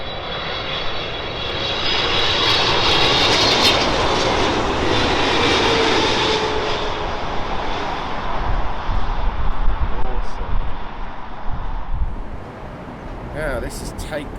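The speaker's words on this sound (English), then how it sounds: "Qatar from Doha, the Boeing 777-300 with some gorgeous ribbons on its wings." A Qatar Airways Boeing 777-300 jet arriving from Doha at London Heathrow, its broad engine roar building and holding steady at close range before easing, with voices talking briefly over it.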